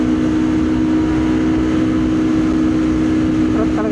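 A motorcycle engine hums steadily while riding on a road trip in the Philippines. The drone is loud and continuous with constant wind rush and no break, and faint voices sit underneath.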